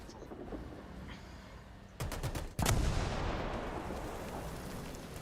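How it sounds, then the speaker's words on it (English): Gunfire in an online multiplayer shooter game, a rapid burst of several sharp shots fired close by, followed by a loud blast that decays into a long rumbling tail over background noise. "Stop shooting me, I'm waiting on Weebly Q."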